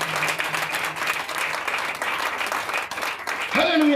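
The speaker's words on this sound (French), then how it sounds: "Oh, acclame très fort Jésus, je veux voir." Church congregation applauding during a Wednesday morning sermon, a steady wash of clapping throughout with voices mixed in and a louder voice rising near the end.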